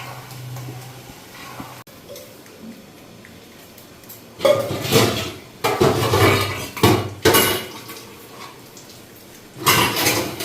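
A metal lid clanks onto a cooking pot of spiced dried fish in a home kitchen, a few sharp clattering knocks in separate bursts amid quiet background hiss.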